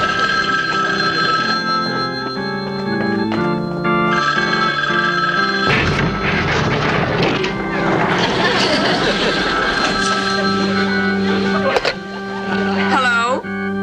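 A telephone bell rings with bright, sustained tones in a comedy household scene, layered over music and a busy scene with voices talking.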